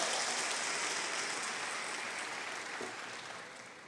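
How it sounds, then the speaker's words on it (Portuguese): A congregation at a Paz Church service in Santarém applauds loudly, a dense, steady wash of clapping that fills the whole stretch and fades slightly toward the end, with no voices over it. "Pode aplaudir bem forte."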